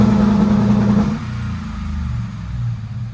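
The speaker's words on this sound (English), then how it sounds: "I'm going to bump the throttle up." The engine of a 2012 Ford F-150 fitted with an N2MB WOT Box launch control drones loudly and steadily under throttle, then drops to a lower, rougher idle-like rumble.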